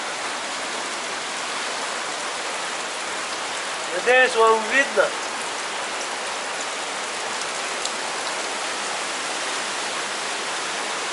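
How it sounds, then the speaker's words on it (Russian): Water pouring out and dripping everywhere at the Akhki-T1ai tourist complex, a dense steady wash of splashing that runs throughout, with a voice speaking briefly partway through. "Смотрите, вот оттуда выходит вода. Вот везде капаю."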